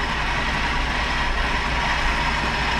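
A long-dormant mini truck engine idles steadily just after its first start in years, fresh oil and new plugs in it, a continuous close, loud low rumble with no talk.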